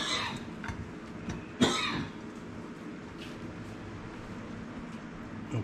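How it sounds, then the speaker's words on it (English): A single sharp cough rings out near, followed by a quieter second cough, over a low steady background hum. "I got the coffee coughs this morning"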